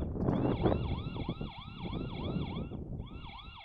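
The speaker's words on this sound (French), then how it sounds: "Elle est parfaitement audible, mais tout de même beaucoup trop légère à mon goût pour être qualifiée de sirène." The alarm siren of an ANRAN C3 solar wifi security camera wails in quick repeating electronic sweeps, fairly light and thin, pausing briefly before resuming.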